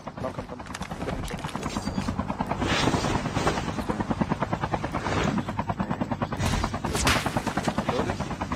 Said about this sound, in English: I have a chopper here, right?